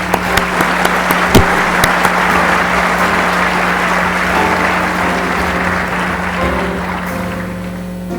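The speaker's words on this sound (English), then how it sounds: "a round of applause for this distinguished group" Dense, steady applause fills the room throughout, a broad wash of clapping from an audience honoring a distinguished group at a club event, with a low constant hum running underneath and no one speaking.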